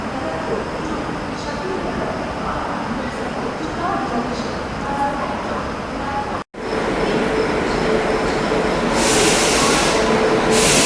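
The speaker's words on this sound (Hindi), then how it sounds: "और इधर अराइवल हो रहा है पटना की शान पटना तेजस राजधानी एक्सप्रेस" The Patna Tejas Rajdhani Express rolls into a station with a loud, steady rumble of wheels and carriages, while someone talks over the passing train.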